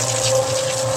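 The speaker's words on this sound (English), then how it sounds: "I'm adding some more water." Water pours steadily into a dry dirt mix for an adobe floor, a continuous close gushing flow with a faint tonal hum beneath it, unbroken for the whole moment.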